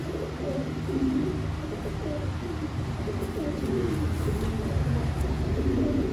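Several pigeons coo steadily in low, throaty, overlapping calls throughout, a continuous dense murmur from birds kept nearby in a loft, with no talking.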